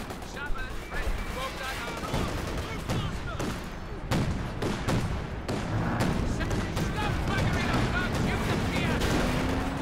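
Repeated gunshots and heavy shelling thud around a headquarters in Company of Heroes 2, irregular bursts and booms of moderate loudness over a constant battle din, with voices talking over it.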